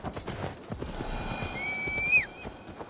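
A horse in Assassin's Creed Valhalla gives one loud, close whinny near the end, after a stretch of faint, scattered hoofbeats under a low game ambience.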